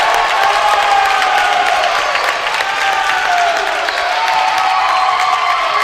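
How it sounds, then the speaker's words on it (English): Crowd at a varsity high school basketball game cheering and roaring loudly and continuously after a late basket, with clapping mixed into the sustained noise. "Listen to this crowd"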